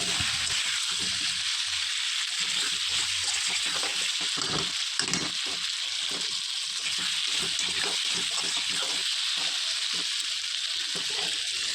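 Egg curry masala with slit green chilies sautéing in a pan, a steady loud sizzle and fry with scraping stirs throughout, no talk.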